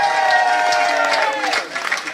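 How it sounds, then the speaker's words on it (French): A crowd at an open-air campaign rally applauds and cheers the candidate, loud and continuous, with voices and tonal sounds layered over the clapping. "on applaudit bien fort notre candidat, celui qui nous rassemble ce soir, Giloto."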